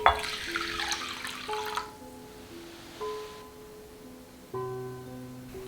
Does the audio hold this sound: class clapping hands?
no